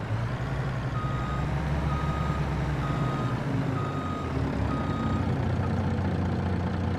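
Truck in a logging video game backing up, its reversing alarm beeping at an even pace over a steady low rumbling engine, fairly loud and uninterrupted throughout.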